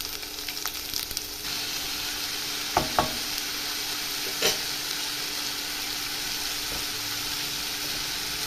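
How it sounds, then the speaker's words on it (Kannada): Tomatoes fry in a pan with a steady, close sizzle, broken by a few distinct clinks and scrapes as a spoon stirs them; no one speaks. "ಟೊಮೊಟೊ ಹಾಕಿದ್ದೀನಿ."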